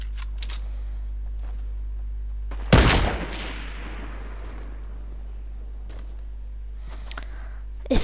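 A single sharp, loud gunshot from a sniper shootout video game cracks out and rings off in a long decaying tail over a steady low hum, with a few faint clicks before and after.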